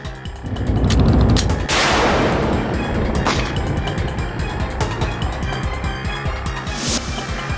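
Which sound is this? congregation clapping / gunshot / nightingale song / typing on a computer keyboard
gunshot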